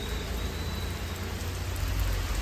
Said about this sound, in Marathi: जाम पाऊस पडतं